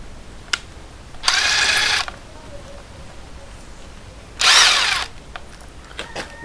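A power drill backs a screw out of wood in two short whirring bursts, close and loud, separated by quiet handling clicks and a few small knocks.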